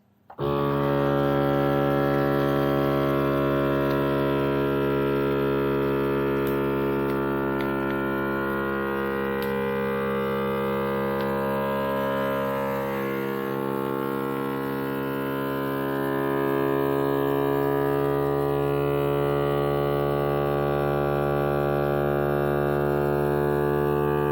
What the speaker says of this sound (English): Alright, now it's sealing it, which is great. Sucked all the air out of it.